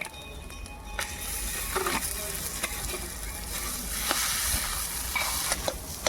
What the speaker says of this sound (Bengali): আলুটা ভালো করে ভেজে নিলে